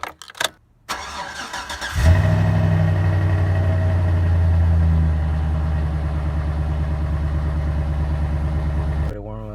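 A vehicle engine turns over and catches after a brief crank, then settles into a steady, loud idle that drones on close by while warming up.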